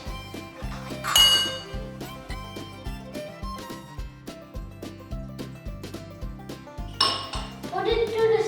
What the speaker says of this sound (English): Mix 1 tablespoon vinegar into 1 cup milk. And mix it.